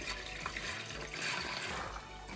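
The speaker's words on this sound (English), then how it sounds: "Now we're going to add the yellow dried peas into the water." Dried yellow peas pour into a pot holding five cups of water, giving a short, close, continuous rushing splash and rattle with no voices.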